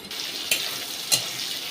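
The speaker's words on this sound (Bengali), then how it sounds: "দেখুন উচ্ছেগুলো হালকা হালকা ভাজা হচ্ছে" Bitter gourd slices frying lightly in a pan, a soft continuous sizzle with two brief louder crackles, close and quiet with no talking.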